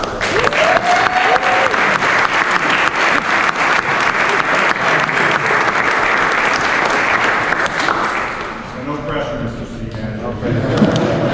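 An audience breaks into loud, steady applause at an evening event celebrating a Chicano art collection, the clapping carrying on for several seconds before fading into scattered claps and a voice.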